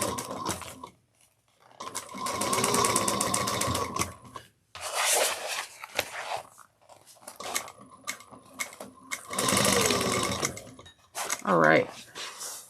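Sewing machine basting a panel onto the side of a bucket bag, running in several bursts of steady whirring with pauses between, fairly close, with speech at times.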